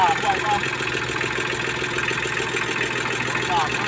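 A Kubota L2000 small tractor runs with its PTO engaged in fourth gear. The engine drones loud, close and steady, with an even mechanical churn the whole time.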